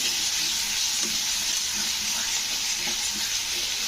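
Drumstick pieces simmering in a spiced gravy with red chilli powder and kasuri methi in a pan, giving a steady close hiss of frying with faint scraping stirs, no voices.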